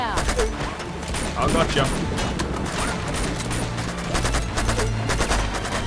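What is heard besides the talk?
gunfire in the video game Uncharted 2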